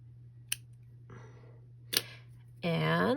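Scissors trim a knotted thread on a craft box and drawer, giving two small sharp snips about a second apart, quiet and close, followed by a louder tonal rustle at the end.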